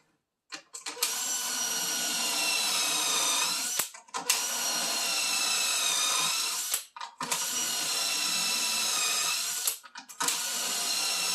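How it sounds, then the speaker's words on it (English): A power drill whines steadily in three long bursts, each a few seconds, drilling holes in clamped wood for cabinet rollouts, separated by brief pauses, close and loud with no talking. "So I set the thing like this, clamp it, and then drill holes."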